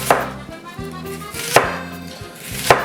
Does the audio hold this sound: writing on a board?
no